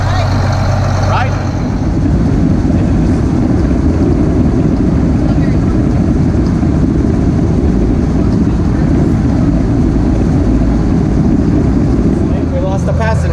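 A farm tractor drives along while mowing, its engine a steady, loud, close rumble that fills the whole stretch without a break.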